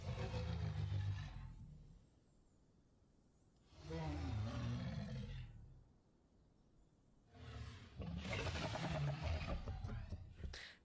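Adult dinosaur in the Prehistoric Kingdom video game giving three deep, rumbling roars with rough, growling texture, each lasting about two seconds and separated by quieter pauses.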